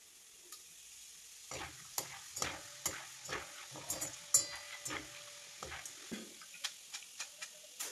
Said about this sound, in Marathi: त्यानंतर हे डाळी मी आता तेलात टाकायला लागली आहे.